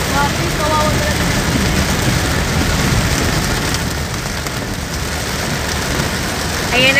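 Heavy rain pours nonstop during flooding weather, a loud, dense and unbroken roar.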